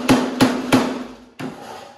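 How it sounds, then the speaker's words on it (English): Three sharp metallic taps from a body hammer on a 1978 Ford F150 Ranger XLT ring out in quick, even succession, each with a short resonant tone, then a pause and one more duller knock, close by. "that's a nice body hammer you have there"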